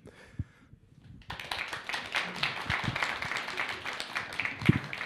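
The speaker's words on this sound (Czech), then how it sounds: "Tak, je to zasloužený potlesk." An audience applauds after architecture presentations on public buildings. Near-silence gives way to steady, moderately loud clapping from a medium-sized crowd.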